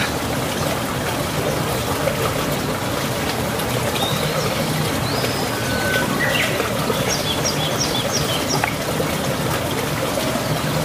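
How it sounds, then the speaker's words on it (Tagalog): Faint bird chirps and short trills sound over a steady rush of flowing water at Abuab Falls in the Philippines, in an outdoor forest setting. "Puro mga huni ng ibon."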